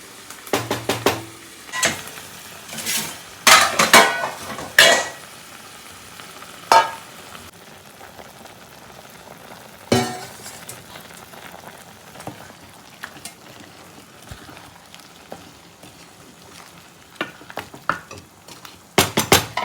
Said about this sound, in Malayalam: ഇനി ഇതിലിരുന്ന് ചിക്കനും ഈ ഉരുളക്കിഴങ്ങ്, ക്യാരറ്റ് ഇതെല്ലാം വേവട്ടെ.